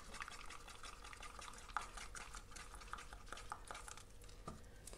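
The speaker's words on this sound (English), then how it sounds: "we're gonna stir it in anyway" Acrylic paint with silicone drops being stirred in a cup, a steady soft scraping and swishing with small clicks of the stirrer against the container, close and fairly quiet, no voices.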